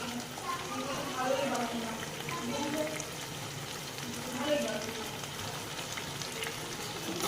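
Chicken frying on a low flame with ground spice paste just added, a continuous soft sizzle with occasional stirring scrapes, quiet and even throughout.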